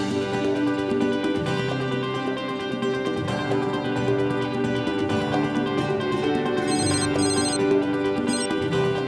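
A telephone rings continuously, a bright repeating electronic ringtone layered over a busy background.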